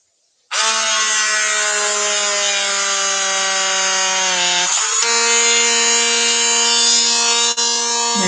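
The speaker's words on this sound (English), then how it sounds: "I'm just going to drill a hole in here" A power drill whines loudly and steadily, close by, drilling a hole, its pitch dipping briefly partway through as it bites into the material before running on.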